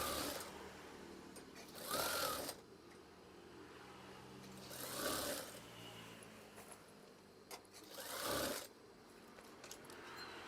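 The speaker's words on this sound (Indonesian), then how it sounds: "Yang saya jahit ini adalah renda bagian bawah" A sewing machine stitching lace trim onto a curtain, running in three short bursts of rapid whirring separated by pauses, close and fairly quiet.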